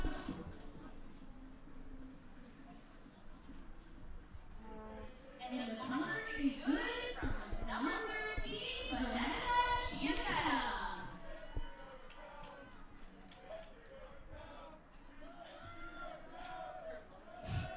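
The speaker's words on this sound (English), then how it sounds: "Men's rugby cheering something. Some chant going on." A men's rugby team cheering and chanting on the sidelines of a women's rugby match, a distant swell of group voices rising in the middle and then fading, with talk nearby.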